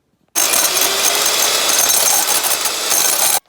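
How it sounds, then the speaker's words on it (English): An electric mixer whisks egg white for coconut macaroons, a steady loud whirring buzz that runs unbroken for about three seconds, then stops abruptly. "just whisk up the egg white and it becomes nice and light and fluffy"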